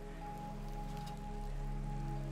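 Steady rain falls on a Victorian London street, a continuous soft patter with a low hum underneath and no voices.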